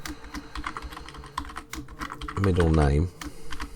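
Typing of an SQL query on a computer keyboard, rapid key clicks under a man's speech, with a brief spoken phrase in the middle.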